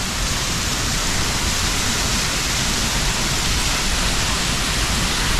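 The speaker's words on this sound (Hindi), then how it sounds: "और ये है कोई स्मॉल वाटरफॉल" A small mountain waterfall along the trail to Jogini waterfall rushes in a dense, steady roar of falling water, close and continuous with no breaks.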